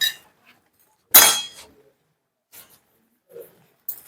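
A lid is set on a cooking pot of dal and vegetables in a home kitchen: one sharp metallic clink stands out, with a few faint taps around it in otherwise quiet surroundings.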